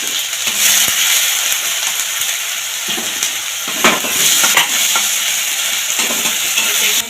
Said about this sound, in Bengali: তাই এখানে এবারে টমেটো কুচিটা দিয়ে দিচ্ছি।